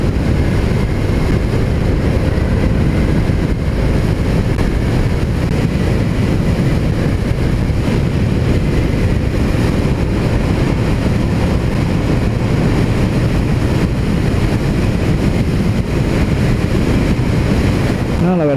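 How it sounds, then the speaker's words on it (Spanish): A Honda PCX scooter cruises at 80-90 km/h on a country road, steady engine drone buried under loud, continuous wind rush buffeting the microphone throughout. "rodando a este tipo de velocidades, 80-90, la verdad es que la moto responde de manera espectacular"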